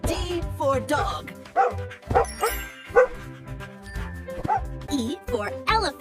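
A dog barks and yips in quick, excited bursts, close and loud, with some whiny notes mixed in.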